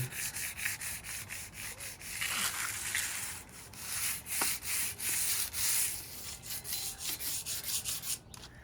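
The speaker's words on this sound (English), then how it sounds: "And just a general light sanding." Steady back-and-forth rubbing of sandpaper over a painted surface, a light general sanding, soft and rhythmic, continuing for several seconds at close range.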